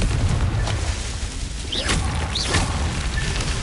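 Confringo explosion spell cast in Hogwarts Legacy, a loud booming blast with crackling bursts and two sharp whooshing streaks, up close and alone.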